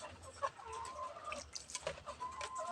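Chickens cluck and chatter in a poultry house, several birds close by in soft, irregular bursts over a low rumble of background noise.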